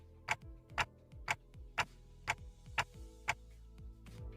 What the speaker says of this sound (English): I heard ticking.